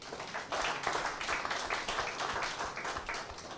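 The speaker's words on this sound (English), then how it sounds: "a round of applause for our panelists" A conference audience applauds its panelists, quiet but full clapping from many people heard from a distance, a continuous rippling patter with slight swells and no talking.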